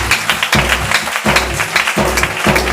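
A church congregation claps loudly and steadily in an even, rhythmic beat, acclaiming Jesus Christ, with the sound filling a close, reverberant space.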